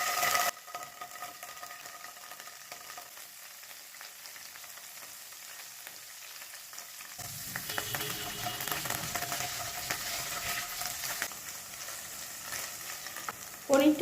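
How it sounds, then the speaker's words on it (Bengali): Paneer fries in ghee over a medium flame, with a gentle continuous sizzle that grows louder and busier partway through as the pieces are stirred and turned, close and without talk. "এবার গ্যাসটাকে মিডিয়াম ফ্লেমে রেখে পনিরটা ভেজে নেব।"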